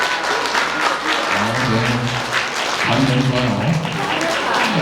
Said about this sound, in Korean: 오늘 긴장 먼저 풀 수 있도록 박수 한번 크게 신랑에게 부탁드리도록 하겠습니다